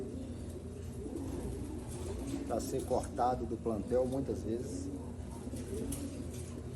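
Pigeons cooing in a breeding loft, soft throaty coos rising and falling in a short run midway, low and fairly close beneath someone talking steadily throughout.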